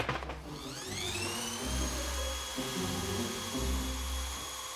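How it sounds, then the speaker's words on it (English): A wall and ceiling sander is tested on a small corner patch of wood flooring, giving a steady high-pitched motor whine that rises as it spins up, with low rumbling scrapes pulsing underneath. "The sander they have to hand is meant for walls and ceilings"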